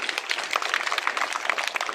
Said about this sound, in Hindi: सबसे पहले चलिए इसके मौके पर ताली हो जाना चाहिए